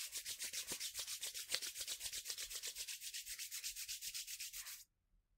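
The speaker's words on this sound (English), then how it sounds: "let's rub our hands together to warm up this tree. Rub, rub, rub. Keep rubbing." Hands rub together briskly in a steady back-and-forth rhythm, a close, dry swishing repeated about six times per second for nearly five seconds before stopping abruptly.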